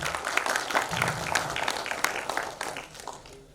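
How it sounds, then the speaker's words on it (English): Applause from a conference audience welcoming a speaker, a dense wash of clapping that holds steady, then thins and trails off near the end. "with a big round of applause, all of you"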